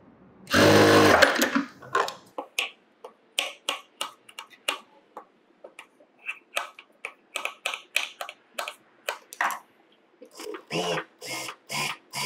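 A sewing machine runs one short, fast burst stitching an edge seam on a sleeveless top, then falls quiet while a string of light, separate clicks and taps follows close by.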